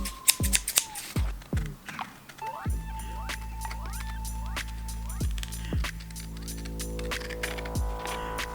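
Scissors snip through plain printing paper to cut out pieces, giving a close run of sharp, quick cuts, first in a rapid cluster and then in steadier, spaced snips over a faint background hum.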